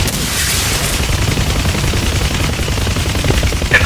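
Dense gunfire fills a DCS combat flight simulator battle around an AH-64 Apache helicopter base. It is a continuous, rumbling barrage of overlapping shots and explosions, with no voices over it.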